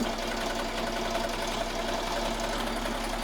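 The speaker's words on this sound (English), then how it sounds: "So the first stitch is the placement stitch." An embroidery machine sews the placement stitch for a soccer ball design on a hoodie, producing a rapid, steady needle chatter over a low motor hum, close and continuous, with no talking.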